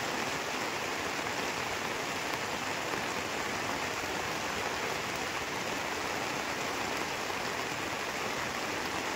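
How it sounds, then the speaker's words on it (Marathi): Heavy rain pours steadily, a dense, unbroken hiss of falling water that stays at the same loud level throughout with no voices. "बाहेर पाऊस चालू आहे"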